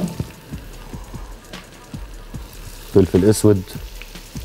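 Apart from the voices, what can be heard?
vegetables and potatoes frying and being stirred in a pan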